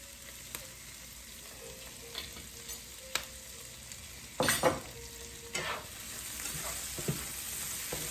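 Capers dropped into a pan of garlic frying in oil give a faint, steady sizzle with scattered stirring clicks and a louder spattering burst partway through.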